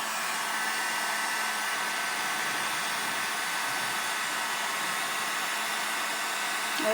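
A hair dryer drying ink on a paper craft project gives a steady, even whooshing drone, close and constant for the whole stretch, with no one talking.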